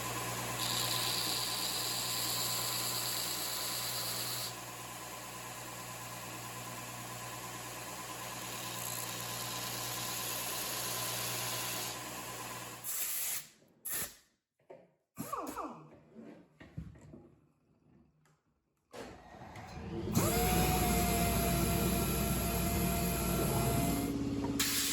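A maple logo inlay is sanded flat on a black guitar headstock with a steady, loud abrasive hiss that breaks off into scattered handling noises and briefly returns.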